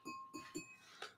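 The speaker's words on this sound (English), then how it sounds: "You can hear the ring" A thick, well-made crystal ice bucket is tapped, giving three quick light clinks followed by a fourth, each leaving a faint sustained ring, quiet and close.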